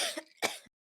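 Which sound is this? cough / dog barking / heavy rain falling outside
cough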